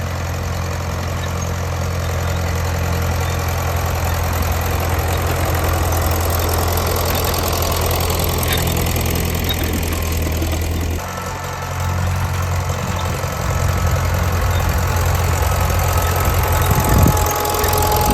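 A Case tractor drags a disk through soft field ground. Its loud, close engine drone holds steady throughout, shifting slightly partway through, and there is no talking.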